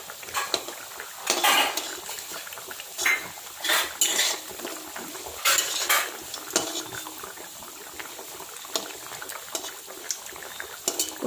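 Plates and dishes clatter and clink in a home kitchen while poppy-seed fritters are being made, with scattered bursts of handling between quieter stretches and some faint background stirring.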